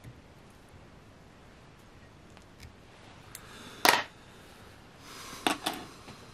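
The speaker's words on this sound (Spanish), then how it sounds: "Voy a tomar mis tijeras, todo esto me ha sobrado." Small scissors trimming excess thread while a balanced leech fly is tied: two or three crisp, quick snips, close and isolated against a near-silent room.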